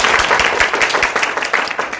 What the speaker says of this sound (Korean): 우리 주님께 영광 박수 드리겠습니다.